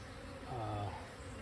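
Honey bees buzz steadily around a hive while a split is moved into a new box, a continuous close insect drone that swells louder in the middle of the short stretch.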